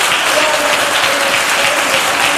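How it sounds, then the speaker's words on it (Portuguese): Church congregation applauding in worship, a dense, steady roar of many hands clapping together without pause. "Aplaudam o Senhor em nome de Jesus."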